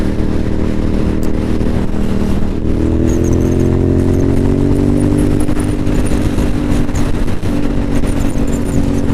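A motorcycle engine roars close and loud, rising in pitch as it revs up to pass a Jeep in traffic, with steady wind buffeting underneath.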